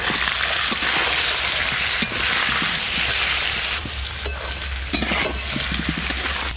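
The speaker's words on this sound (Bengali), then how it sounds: "আমি খাসি মাংস রান্নার জন্য আলুগুলো ভেজে নেব" Potatoes fry in oil for mutton curry, a loud, dense sizzle close by with intermittent stirring scrapes and a brief shift in intensity partway through.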